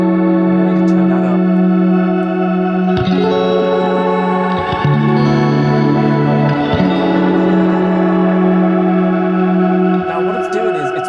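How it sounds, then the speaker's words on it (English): Electric guitar played through a Soundtoys Crystallizer pitch-shifting delay plugin, sustained chords ringing with shimmering, reverse-delayed pitch-shifted echoes stacked above them, loud and continuous with no talking. "Let me show you the plugin. It's called Crystallizer by Sound Toys, and here it is with it on."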